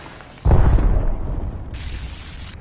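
A grenade goes off in a PS4 shooter game, a sudden heavy boom that hits after a quiet start and then rumbles and fades under lingering game noise.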